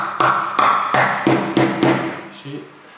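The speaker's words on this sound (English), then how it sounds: "give it a couple of knocks with the hammer" A hammer gently tapping a nock onto an Easton FMJ 5mm arrow during fletching work: six crisp, evenly spaced light knocks with short ringing tails, close and clear, then a faint softer tap at the end.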